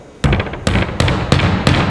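A hammer drives a nail set into wooden door trim with five sharp, evenly spaced blows, each a loud crack ringing briefly in a quiet room.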